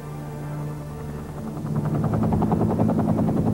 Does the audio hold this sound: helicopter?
yes